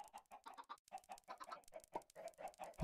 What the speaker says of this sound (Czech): slepice jsou moje nejoblíbenější zvíře v Minecraftu